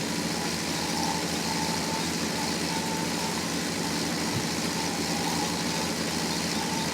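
Tractor engine in Farming Simulator 17 drones steadily, a constant low-mid hum and rumble that holds without pause while the machine rolls over ploughed ground.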